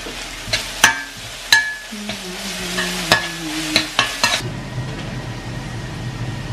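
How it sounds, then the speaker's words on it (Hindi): Ash gourd (petha) tossed into a hot frying pan with spices, giving a sharp burst of sizzling and frying with several clattering stirs and scrapes of a spoon against the pan, then a steadier hiss. "अभी डाल देते हैं पेठा।"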